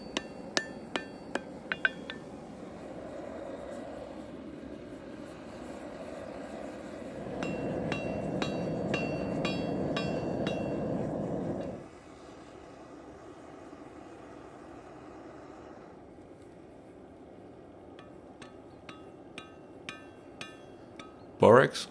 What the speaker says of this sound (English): Initially, the forging is done quite gently to avoid breaking any pieces off the iron until